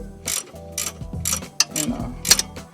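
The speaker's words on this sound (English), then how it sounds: "use the ratcheting end. Saves you some headache and some time." Ratcheting wrench working a long strut bolt on a 1986–1991 Cadillac Seville, short bursts of rapid clicking separated by pauses and metallic knocks, close up.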